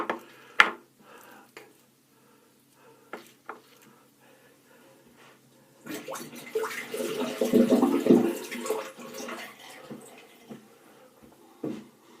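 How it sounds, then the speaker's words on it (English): A bathroom tap runs to wet a straight razor blade during a first shave, a splashing rush of water lasting a few seconds between quiet stretches with small clicks and knocks. "So I'm going to wet the blade."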